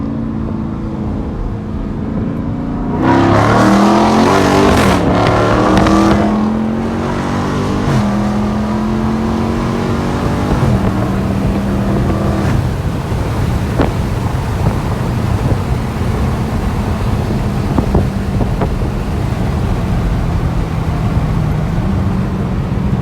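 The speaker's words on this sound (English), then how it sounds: "Alex is gonna show you guys a little pull on the Scat Pack" A Dodge Charger Scat Pack accelerates hard from a 30 mph roll, its V8 engine rising in pitch through the gears with upshifts, loud and close, with road noise and wind rushing over the cabin.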